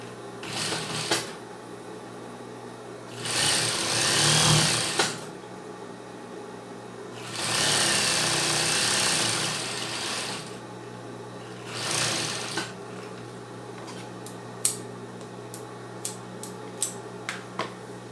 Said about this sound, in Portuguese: a alça eu vou virar ela aqui e vou fazer um pezinho de máquina